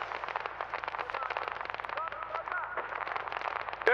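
Small arms gunfire in the ArmA siege of Chernogorsk crackles in rapid, dense bursts, moderately distant and continuous, like a steady firefight rattling on.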